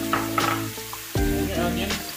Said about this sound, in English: throw in your garlic right away